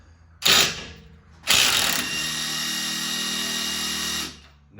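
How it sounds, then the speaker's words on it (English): An impact wrench hammers on a sway bar link nut of a 2015-2023 Jeep Renegade, with two loud bursts, the second a sustained rattling run of about two and a half seconds before stopping. "We're gonna break it free with the impact."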